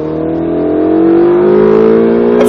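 Ferrari 458 Italia accelerating on a track, its engine note climbing steadily in pitch as a loud, close, smooth wail with clear harmonic tones.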